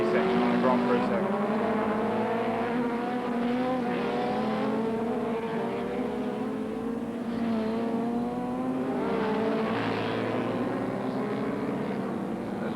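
Superbike motorcycles race at Oran Park circuit in a 1982 Swann Series round. Their engines whine and drone continuously, rising and falling at a distance, beneath a commentator talking.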